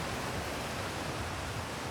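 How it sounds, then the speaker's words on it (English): A waterfall in the space exploration video game Outer Wilds gives a steady, broadband rushing roar that stays even and unbroken, close and moderately loud, with no voices over it. "Waterfall."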